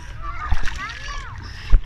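A phone and people plunge into water, with sharp splashes near the start and again near the end, while children and other voices chatter excitedly throughout.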